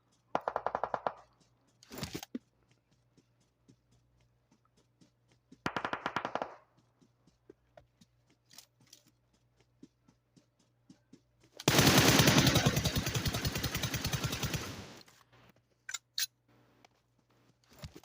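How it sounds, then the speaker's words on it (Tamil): Bursts of automatic machine-gun fire in a mobile battle-royale shooter game, with a few short rattling volleys early on, then one long, loud sustained burst of about three seconds, followed by scattered faint single shots. "புல்லட் வருதா நான் அடிக்கிறது உனக்கு?"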